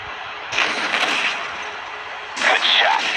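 Gunfire in the Modern Combat 3: Fallen Nation shooter game, two bursts of loud, dense shooting separated by a brief lull, with in-game voice chatter mixed underneath.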